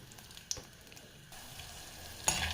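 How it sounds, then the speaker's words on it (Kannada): Rice frying in oil in a home kitchen pan for a traditional lunch, a low steady sizzle with a couple of sharp stirring clatters, close and fairly quiet, no voices. "ಇದು ಇದರಲ್ಲಿ ಎಣ್ಣೆಲಿ ಕರ್ಕೊಂಡು ತೆಕ್ಕೊಳ್ತೀನಿ"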